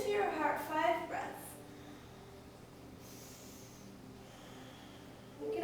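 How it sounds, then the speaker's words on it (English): Slow, deep breaths during a yoga backbend session, a strong breath sound near the start followed by quiet, steady breathing and faint room tone. "breathe into the heart. So now as you inhale, lift through the heart"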